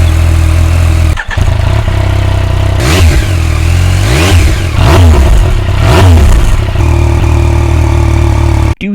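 A motorcycle engine revs loud and close through its exhaust, a steady rumbling idle rising into several sharp throttle blips and falling back, with no voices.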